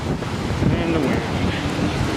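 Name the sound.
wind outdoors in New York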